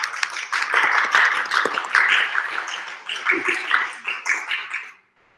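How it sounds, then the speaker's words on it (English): Applause from a small audience at an evening women's WordPress meetup, a few seconds of crowd clapping, moderately loud and fairly close, thinning into scattered claps before stopping abruptly. "One more round of applause."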